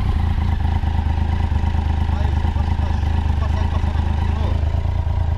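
A Honda XR 250 Tornado dirt bike idles and putters off-road, a loud, close, steady engine drone with low rumble throughout, occasional light revving.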